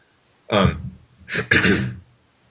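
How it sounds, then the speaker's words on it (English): Two rough bursts of throat clearing and coughing, close by, separated by a brief pause. "Coughing a lot."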